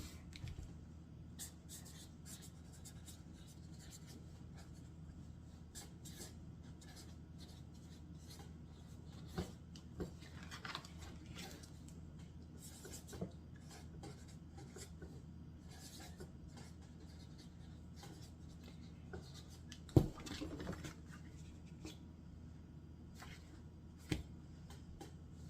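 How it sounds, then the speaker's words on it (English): A marker writes names on a Dollar Tree gift basket item for a Valentine craft, faint, soft squeaky strokes and rubbing scratches scattered over a quiet room hum, with an occasional light tap. "I'm just going to very simply just write their names on"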